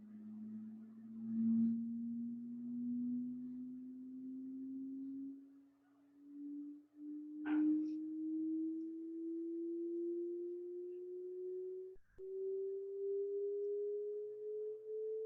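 A hearing-test pure tone sweeps slowly and steadily upward from a low hum, one continuous sine tone sounding alone and fairly quiet, with a couple of brief clicks.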